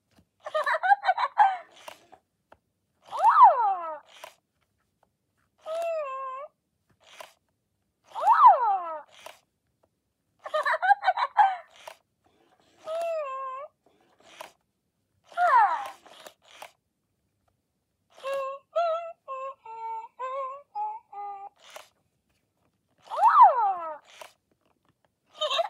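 Spin Master Purse Pets Hello Kitty interactive toy plays electronic chirps and little melodic noises in short separate bursts with silent gaps between them, clear and close, about ten reactions in a row.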